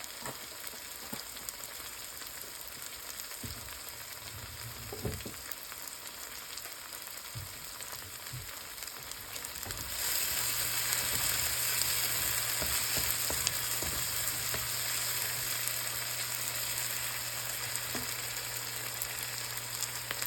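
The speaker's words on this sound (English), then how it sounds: "a half a teaspoon of cumin seeds. I just like that Mediterranean flavor. Just let that fry up in there." Cumin seeds frying in hot oil for an okra and tomato stew, a soft crackle with light stirring taps at first, then a louder, steady close sizzle that fills the second half.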